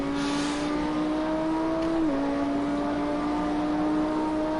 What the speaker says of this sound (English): The roar of the sound of the engine is always nice as well